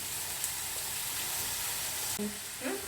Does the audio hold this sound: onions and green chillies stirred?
yes